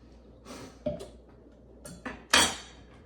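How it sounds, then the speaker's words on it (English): Vegan banana bread batter stirred in a bowl with vanilla paste added: a few sparse clinks and scrapes of a utensil against the bowl, close and fairly quiet, with no talking. "Mix it."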